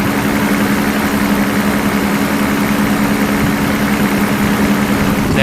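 1993 Mercedes 600SL V12 engine idling smoothly at close range, a loud, even, steady hum with no speech.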